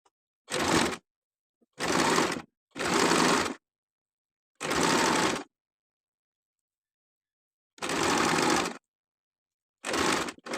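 Six separate bursts of a domestic sewing machine stitching a frock seam, each lasting about half a second to a second, with silent pauses between them.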